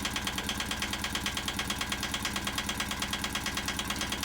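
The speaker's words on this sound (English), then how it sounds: "it's what a one-cylinder diesel that's 40 years old will sound like" A 40-year-old single-cylinder marine diesel runs steadily aboard a sailboat, its rapid, even thumping beat repeating without a break at close range, with a rough, knocking edge over a low rumble.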